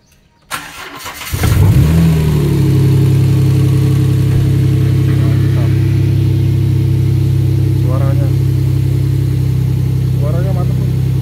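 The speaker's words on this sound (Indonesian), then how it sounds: "kita hidupin mesin itu" A 2011 Jeep Rubicon V6 fitted with a modified K&N air filter cranks and fires up, then settles into a loud, steady rumbling idle with a few brief revs, as voices talk quietly nearby.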